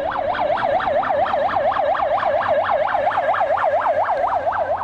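Fire engine siren wailing loud and close in a rapid, steady yelp pattern, the rising and falling tone cycling about four times a second with no talk over it.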